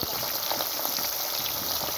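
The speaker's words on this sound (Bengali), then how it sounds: "এখন আমি বাকি মাছগুলো দিয়ে দিলাম তেলের মধ্যে ভাজার জন্য।" Fish frying in hot oil during village-style home cooking, a dense, steady sizzle that stays loud and continuous with no voices over it.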